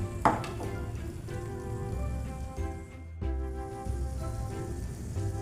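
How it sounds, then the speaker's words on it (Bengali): Battered stuffed chilli peppers (simla mirch) dropped into hot oil, a steady close frying crackle with a brief louder splash near the start and a short dip midway. "এরমভাবে আমি ব্যাটারে দিয়ে আমি লঙ্কাটাকে ভেজে নেব"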